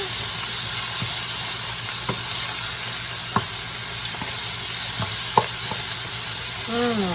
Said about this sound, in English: about a tablespoon and a half of garlic. Let's give that a good stir.